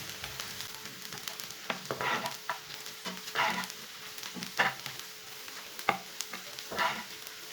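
Onions browning in a frying pan for a quick egg dish sizzle steadily up close, broken by repeated scraping bursts as they are stirred, with no talking.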